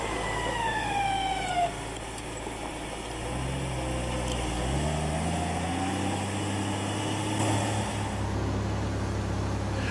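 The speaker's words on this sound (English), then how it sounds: "Turn the grader around for a pass down the other side of the road" A motor grader on an unpaved road turns around with a steady diesel rumble whose pitch slides down and then climbs again as the engine works through the turn.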